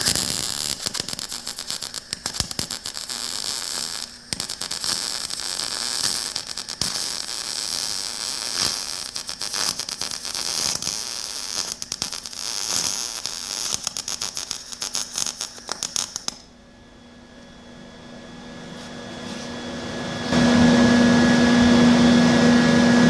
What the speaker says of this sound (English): Another vertical weld.